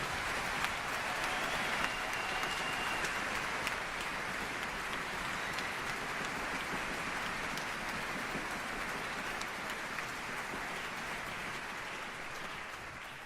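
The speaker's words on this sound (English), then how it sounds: "please give him another round, warm applause, Kevin Spacey" Sustained applause from a large audience greeting a speaker at an evening event, dense and steady, filling the whole stretch with no talk over it.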